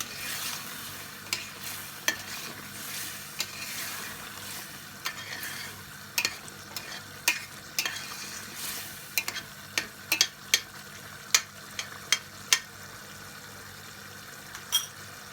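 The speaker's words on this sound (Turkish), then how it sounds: "Birer tatlı kaşığı zerdeçal, karabiber ve kimyon ve tuz ilave ediyoruz iyice karıştırıyoruz." Turmeric, black pepper, cumin and salt are stirred into meat frying for Uzbek pilaf, giving a steady quiet sizzle broken by frequent sharp scrapes and clinks of a spoon against the pot, with no talk.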